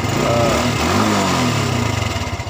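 A fuel-injected Honda Revo motorcycle engine, parked for about two months, runs steadily and close by with a buzzing, slightly uneven idle that pulses faintly toward the end.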